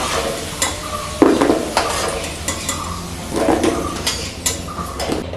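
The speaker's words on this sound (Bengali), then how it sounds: "আলুগুলোকেও একইভাবে আমি লাল লাল করে ভেজে নিয়েছি" Potatoes frying in hot oil in a pan, giving a steady sizzle with intermittent scrapes and clinks of a utensil stirring against the cookware, up close with no talking.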